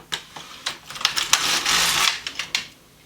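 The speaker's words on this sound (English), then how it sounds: "Decrease one stitch, and I will knit one row." A knitting machine carriage drawn across a single row, giving a close, rattling mechanical clatter of needles with a sweeping whir in the middle, ending in a few sharp clicks.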